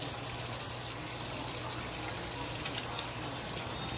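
Running water rushes steadily over rice being rinsed to wash out starch, a constant close splashing hiss for the whole stretch with no voices.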